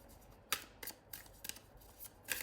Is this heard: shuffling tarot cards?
yes